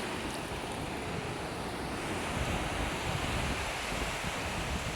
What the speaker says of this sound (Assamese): এইয়া এক উত্তাল তৰংগ